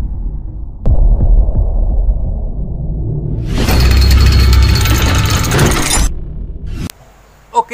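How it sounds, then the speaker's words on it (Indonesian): A car alternator converted into an electricity generator, likely driven as a water turbine, runs with a steady low hum and throb. Midway a loud broadband rush swells over it for a few seconds, then drops back to the hum before cutting out. "sekarang kita pengecekan daripada generator ini apakah benar-benar hidup atau enggak"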